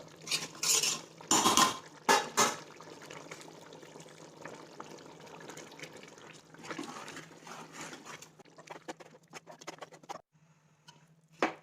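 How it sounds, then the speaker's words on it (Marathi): Gram flour being whisked into boiling water in a pot, with bursts of metal clinking and scraping against the pot, then quieter stirring and occasional taps over a low hum. "आता आपण यामध्ये बेसन पीठ फटणार आहोत"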